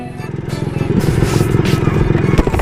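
A Yamaha RXZ two-stroke motorcycle engine runs loud and close while being ridden, its dense, rough revving rising steadily with rattly mechanical clatter and wind noise throughout.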